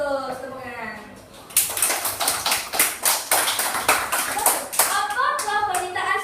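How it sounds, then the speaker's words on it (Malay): Children clap their hands together in a lively round of applause during a classroom storytelling session about a princess and a frog. The claps are close and loud, a rapid rhythm lasting several seconds, with a spoken voice just before and after. "Tepuk tangan."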